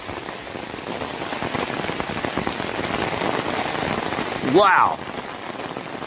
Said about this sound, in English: it's starting to pour down rain.